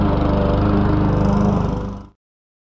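A lawn mower engine runs loud and close with a steady throbbing drone, then abruptly cuts off into silence.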